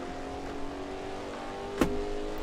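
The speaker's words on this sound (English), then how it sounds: "Get to hear this big old V8 one last time." A big V8 race car engine in an Assetto Corsa sim racing game at the Highlands track holds a steady, smooth drone throughout, with one short sharp click partway through and no talking.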